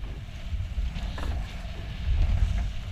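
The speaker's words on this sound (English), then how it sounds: "Lots of wind." Wind gusting and buffeting the microphone during an outrigger canoe race on open water, a low rumbling roar with rising bursts, close and steady with no talk.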